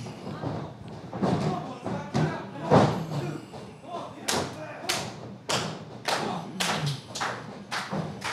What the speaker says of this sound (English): Big suplex.